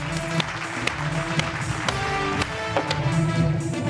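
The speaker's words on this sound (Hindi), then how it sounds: "मोहसिन के पीने पे तालियां।" A studio audience at a talk show claps together in a light, continuous patter with scattered sharper claps, moderately loud and filling the whole moment.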